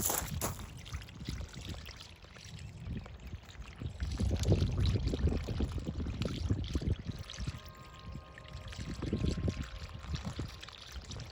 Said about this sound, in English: The swoosh of like 2 inches of water in the hull.